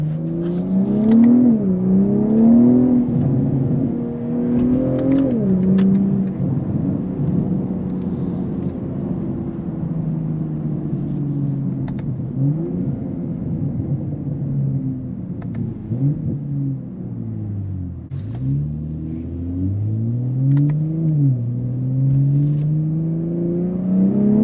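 A 2022 BMW M340i with a muffler delete revs loudly and up close, its exhaust rising and falling in repeated throttle blips over a steady rumbling idle, with no voices.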